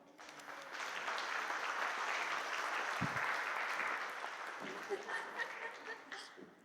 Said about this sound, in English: this is where you can applaud